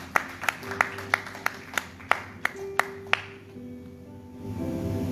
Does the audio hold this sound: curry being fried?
no